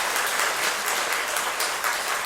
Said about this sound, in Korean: 우리 한번 큰 박수로 격려하겠습니다